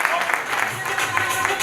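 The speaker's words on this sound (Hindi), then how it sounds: "सर जोरदार तालियां भाई" Audience applause at a business training event, heard as brief, dense clapping that runs under a raised voice speaking throughout.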